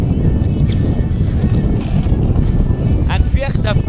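Strong wind buffets the microphone outdoors near a motorway on-ramp in the dark, producing loud, continuous low rumbling gusts, with brief bits of voice over it near the end.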